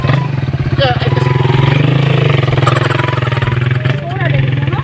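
A Raider motorcycle engine runs close and loud, with a steady low throb and slight rises in revs, while people talk over it.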